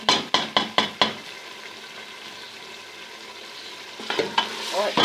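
Potatoes and mutton frying in ghee for aloo gosht, opening with a quick run of five sharp ladle knocks against the pot, then a soft continuous sizzle, with stirring scrapes returning near the end.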